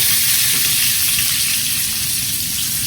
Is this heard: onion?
yes